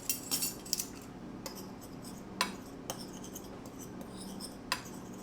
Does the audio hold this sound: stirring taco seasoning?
yes